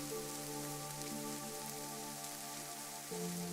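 Steady, soft rain patters evenly throughout, blended with sustained, gentle musical tones that shift once near the end, quiet and calm with no voices.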